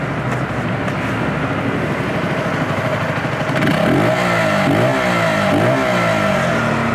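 A Zontes G125 (ZT125 G1) 125cc motorcycle engine revs hard and loud up close, holding high RPM, then climbing in repeated surging sweeps.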